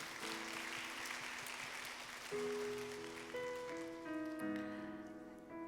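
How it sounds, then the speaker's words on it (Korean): Congregation applauding during a Korean church graduation ceremony, a steady dense wash of clapping throughout with sustained organ or keyboard chords playing underneath. "먼저 하나님께 박수로 영광을 올려드리시겠습니다"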